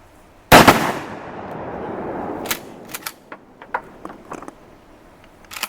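A single loud close shotgun blast from a pump-action Remington 870 or Mossberg 500 at an outdoor shooting match, its sharp crack followed by a long rolling echo and scattered smaller pops and clicks.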